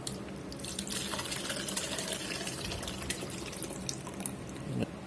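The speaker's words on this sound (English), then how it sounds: "We're going to pour these drippings in here." Brisket drippings from an oven roast pouring steadily and close by for several seconds, a continuous splashing trickle with small drips and no voices.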